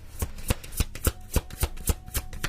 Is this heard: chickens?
no